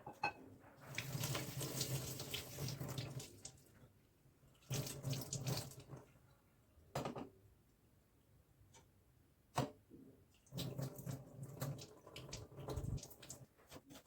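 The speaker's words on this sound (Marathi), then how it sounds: "त्यानंतर टोमॅटो धुवून घेते कोथिंबीर आलं वगैरे धुवून घेते" Kitchen tap water runs into a sink while tomatoes, coriander and ginger are rinsed, in long splashing bursts broken by quiet gaps and a few sharp knocks, no talk.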